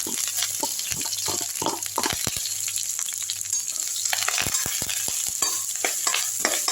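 Curry leaves and mustard seeds fry in hot oil with a bright, crackling sizzle, punctuated by sharp pops and stirring clatter, close and constant throughout.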